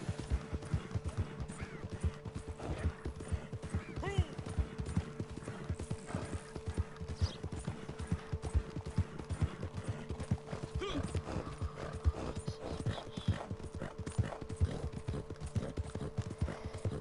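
Horse hooves clip-clop steadily in Red Dead Redemption 2 online, a continuous rhythmic trot running the whole time with a constant low hum underneath and occasional faint whinnies.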